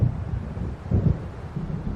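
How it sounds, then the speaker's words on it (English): Low, rolling rumble of an approaching storm's thunder in Alan Wake Remastered, swelling in two or three heavy surges over steady wind-like noise, with no talking. "It seems there's a storm coming."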